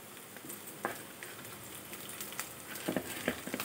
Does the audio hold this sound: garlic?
yes